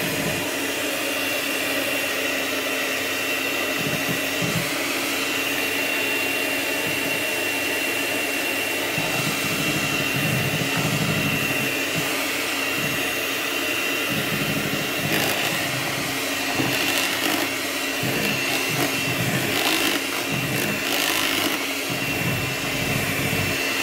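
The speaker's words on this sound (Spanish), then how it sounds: "con la misma batidora voy mezclando la leche condensada" A steady, loud electric whir of a mixer blending condensed milk with cream, running continuously, with slight shifts in pitch and intensity as it blends, no voices.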